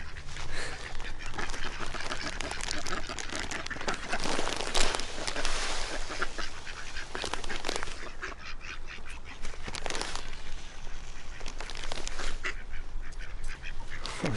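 Ducks quacking and calling outdoors during a walk, repeated honking calls scattered across steady background ambience with some wind or movement noise, no clear talk.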